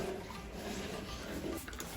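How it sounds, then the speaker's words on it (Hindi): Water is poured for cleaning and makes a steady, fairly loud rushing and splashing that runs for about two seconds, with no one speaking. "तो मैंने पानी डाल दिया"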